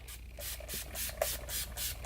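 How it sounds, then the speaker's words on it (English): A series of short bursts of makeup setting spray onto a face, close and fairly soft, in a steady rhythm of about seven puffs with brief gaps between them. "Now it's time to just spray the face."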